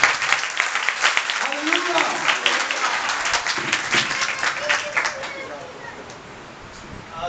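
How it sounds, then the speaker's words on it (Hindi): Church congregation applauding loudly and steadily, a dense wash of many clapping hands that runs for several seconds before thinning out, with a voice speaking over it near the start. "तालियां कम है आपकी"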